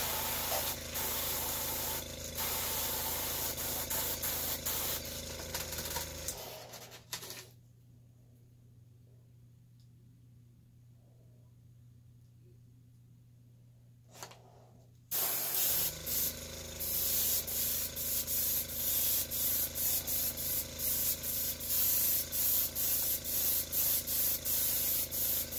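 Spray paint hisses onto the frame of an Axial SCX10 II RC crawler kit in two long, loud, close bursts separated by a quiet pause, with no talking.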